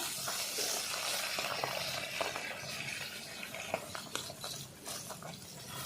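Flipped fish pieces keep frying in oil in a pan, a softer, steady sizzle with intermittent pops and light clinks of a utensil, close by and with no voices.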